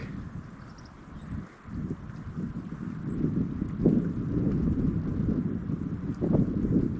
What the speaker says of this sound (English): Kind of windy though.